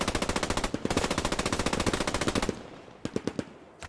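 A carbine fires a long rapid automatic string of close, loud cracks for about two and a half seconds, followed by a few separate single shots, with no talk.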